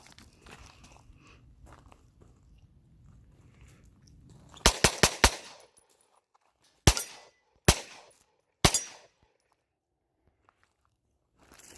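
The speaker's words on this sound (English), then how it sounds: "I'm going to go ahead and do a dump. I'll probably do about 10-15 rounds just to see how it holds up." A pistol fitted with an MCK conversion kit fires outdoors at a range: a fast burst of four sharp shots, then three more spaced single reports, loud and close against quiet background.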